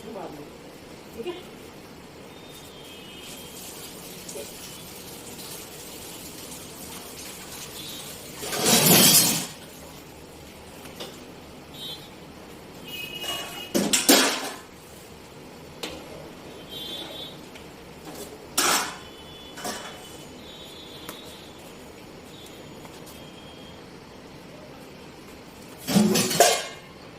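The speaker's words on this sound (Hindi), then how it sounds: "थोड़े से बर्तन हो रहे हैं" Dishes, pots and cutlery washed at a home kitchen sink, with a few sharp clattering clinks and crashes spaced apart over a steady low background, someone talking at times between them.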